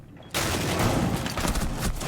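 Shotgun blasts in a video game shooter: after a brief quiet moment, a sudden loud burst of rapid gunfire erupts and continues as a dense, crackling barrage.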